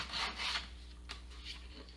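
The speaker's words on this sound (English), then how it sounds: "I'm going to go ahead and sand that just a little bit." Short back-and-forth rubbing strokes of sanding on a small wooden sanding block in a woodworking shop, a few close, soft abrasive scrapes with no talking.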